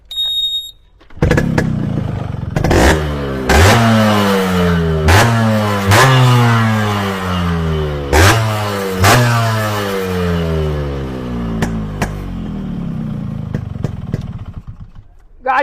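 Yamaha RX two-stroke motorcycle engine revving hard in repeated bursts, each blip rising in pitch and dropping back to a crackling idle, loud and close, with a few sharp pops between revs.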